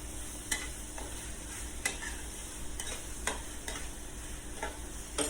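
Fermented beef naem stir-fried with green-cap sauce, light soy sauce and a little sugar, giving a constant dense sizzle. Occasional spatula scrapes and clinks against the pan cut through it, close up, with no speech.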